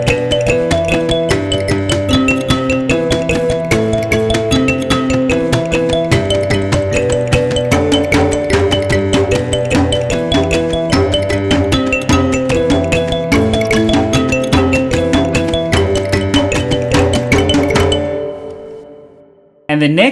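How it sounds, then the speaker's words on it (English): Djembe and mbira playing Nhemamusasa together, shimmering plucked mbira patterns layered over steady hand-drum beats, loud and close for about eighteen seconds before fading out. "let's put everything together with the mbira or Nhemamusasa"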